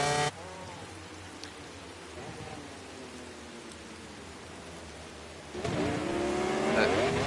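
In a MotoGP racing video game at a rain-soaked Sepang circuit, motorcycle engines drone steadily over a hiss of rain, with a louder bike revving up close near the end.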